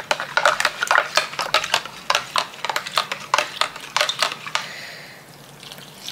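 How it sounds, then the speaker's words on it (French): Focaccia dough is mixed with flour in a bowl, making a rapid series of soft wet slaps and scrapes in close succession, then easing into a quieter rustle at the end. "Je vais mélanger avec la farine."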